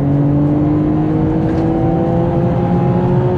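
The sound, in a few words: Nissan GTR R33 400R engine accelerating in third gear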